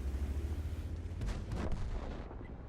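A tank cannon shot in the World of Tanks video game, fired by a VK 30.01 P: one booming report with a rumbling tail over a constant low engine drone.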